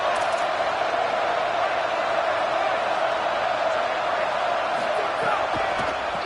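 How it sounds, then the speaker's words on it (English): A steady, dense roar from a packed stadium crowd at an NCAA college football game in a video game, loud and continuous with scattered whoops and shouts. "It's early, but this crowd is fired up. Listen to this noise here."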